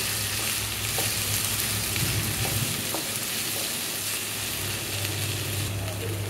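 Okra sizzles steadily in a hot pan as it fries, a constant crackling hiss with a few light stirring knocks, close and continuous throughout.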